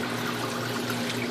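A Panda portable washing machine drains its wash water in a steady, continuous pouring rush over a low motor hum, with no pauses or talk.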